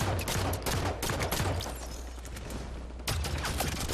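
Pistol fire in the video game Halo 5 Warzone: a dense, steady run of sharp game gunshots and battle noise, loud and continuous, easing slightly midway before a fresh burst near the end.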